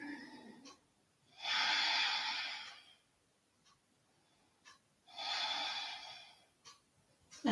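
Two long, deep, breathy exhalations, audible close up in a quiet room, spaced a few seconds apart during a seated yoga spinal twist, with soft short breaths in between.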